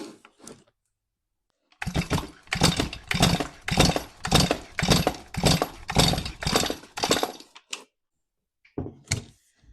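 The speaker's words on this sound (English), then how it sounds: "Let's go ahead and do a compression test." A Stihl MS361 chainsaw engine cranked over by its pull starter during a compression test, giving a burst of about a dozen rhythmic, evenly spaced pulls that starts after a short silence and ends abruptly, with a couple of faint knocks after.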